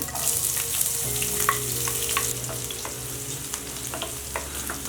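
Seeded green chillies frying in oil with cumin, a close, steady sizzle and crackle with occasional spatula clicks, continuous and alone.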